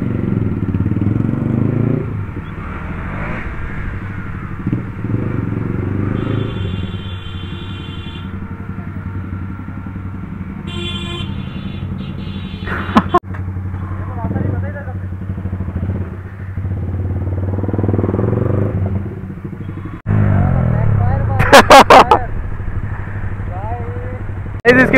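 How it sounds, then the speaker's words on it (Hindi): A Yamaha MT-15 motorcycle with a full aftermarket exhaust rumbles and idles close by in a market, with occasional revs and clattering, under intermittent talking. "इसकी बाइक में से क्या साउंड आ रही है देख रहे हो आप?"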